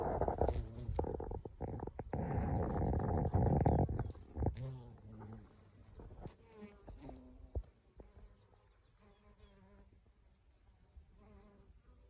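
A bumblebee hums on flowering collards, a loud close buzz for the first few seconds that breaks off into fainter intermittent buzzing and rustling.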